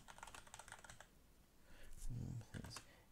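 Quick bursts of keystrokes on a computer keyboard, typing into a Tkinter text box: fast, light clicking, then a few heavier thumps, with a voice talking around the typing.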